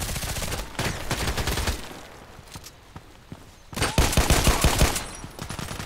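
Repeated semi-automatic TT pistol shots in the online shooter Contract Wars, sharp cracks in two bursts separated by a quieter lull, with game ambience between.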